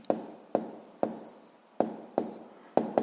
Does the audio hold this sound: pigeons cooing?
no